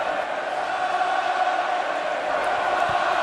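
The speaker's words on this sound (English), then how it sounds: "The crowd getting up the familiar chant in these parts." A large rugby crowd at a Leicester Tigers exhibition match against the New Zealand Māori All Blacks chants in a steady, sustained roar filling the stadium, continuous and fairly loud throughout.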